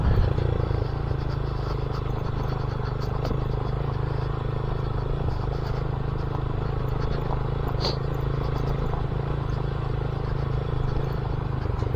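A tractor rumbles past on a road, a steady clattering engine drone heard close and fairly loud for the whole stretch, with no talking.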